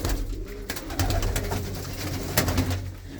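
Racing pigeons coo and rustle close by in a loft, a dense low murmuring with a few sharper flutters and no talk.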